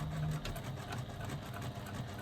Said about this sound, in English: I'm going to stitch along the bottom of that card slot